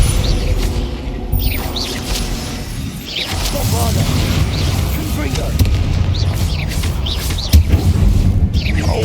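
Explosive Confringo and Bombarda spells in the Hogwarts Legacy video game set off repeated loud booms and bursts amid combat noise, with a voice calling out over them throughout.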